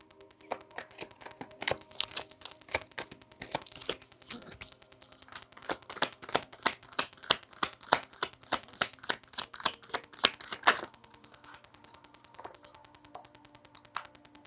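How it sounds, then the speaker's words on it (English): Tarot cards are shuffled by hand up close, a rapid series of crisp riffles and flicks that speeds into dense bursts, then tapers to a few taps before ending, with no talking. "I like to be quiet while I'm shuffling them"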